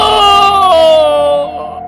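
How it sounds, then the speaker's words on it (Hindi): A man screams in pain in a cartoon, one loud, sustained, wavering cry that falls in pitch and then fades off abruptly. "वो जोर से चीखा और फिर उसकी आवाज बंद हो गई।"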